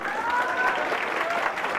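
A group in a class gives a steady, fairly close burst of clapping to welcome a UPSC teacher, with a faint voice over it.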